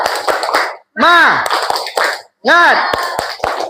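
A classroom of seventh-grade students at a junior high school performs a rhythmic spirit clap as an icebreaker: bursts of quick group clapping in a patterned beat, mixed with chanting voices and short pauses between rounds.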